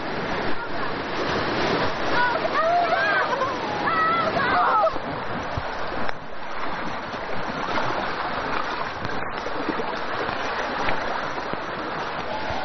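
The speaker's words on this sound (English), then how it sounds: "Narrow and swift, the river twists and turns across the limestone terrain, and it's strewn with dangerous rapids" A narrow, swift river rushes over rapids through Hunan limestone terrain in the rainy season, giving a loud, continuous churning roar with brief bird chirps early on.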